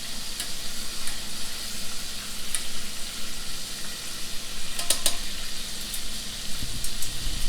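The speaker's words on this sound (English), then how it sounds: "So everything I put in right now is going to cook at the same time." Shrimp fry in a hot pan with a dense, steady sizzle and crackle, broken by a few sharp spits and pops. It stays loud and close throughout, and nobody speaks.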